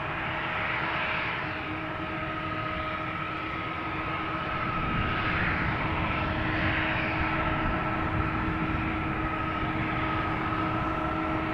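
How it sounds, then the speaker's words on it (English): Delta Airbus A330-300 jet, 24 years old, approaching Amsterdam Schiphol, a steady broad engine roar with a sustained whine, continuous and fairly distant with no talk. "You can hear the Delta approach."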